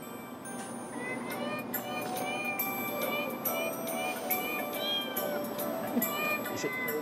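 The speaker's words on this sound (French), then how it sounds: "c'est un chant traditionnel pour le Nouvel An chinois. Sauf qu'on l'a fait chantonner par des chats." A traditional Chinese New Year song rendered entirely in cat meows, a string of rhythmic, pitched meowing notes forming a melody over a steady musical backing, lasting about seven seconds.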